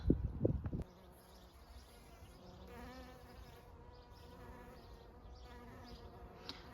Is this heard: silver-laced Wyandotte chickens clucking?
no